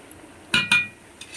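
Metal utensil clinking twice against a pan while banana stem is stirred and fried with spices: two sharp close clinks in quick succession, then a faint scrape and a soft tap over low frying hiss.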